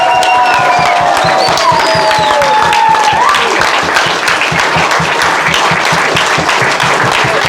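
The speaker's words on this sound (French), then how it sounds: "je voudrais l'applaudissement de Martino." Loud, close applause from an audience at the inauguration of new offices in Nouville, a dense, steady clapping crowd with a few whistles and whoops rising over it early on, continuing without pause.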